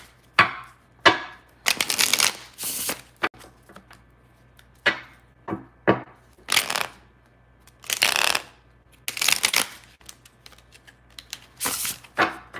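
Bursts of crisp riffling and clacking tarot cards, several shuffles in quick succession with short pauses between them, close and fairly loud.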